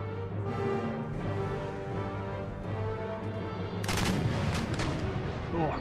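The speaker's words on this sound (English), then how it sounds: "Oh, some howitzers coming in." Howitzer artillery booms in the Empire Total War strategy game, a dense battle din with layered cannon and musket fire, swelling into a heavier crackling volley near the end.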